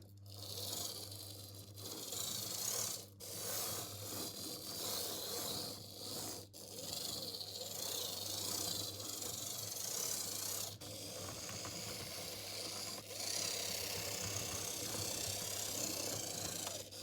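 A Fleischmann 260 diesel shunter model locomotive runs on its gears with a continuous close whirring, rasping hiss, steady throughout with a few brief dips.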